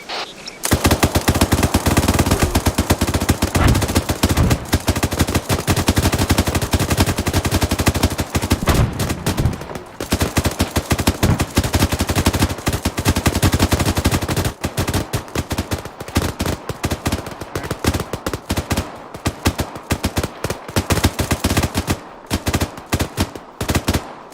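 Sustained rapid gunfire from the ArmA 3 video game during a British military simulation, dense automatic bursts and shots crackling loudly and continuously, thinning into more scattered volleys toward the end, with no talking.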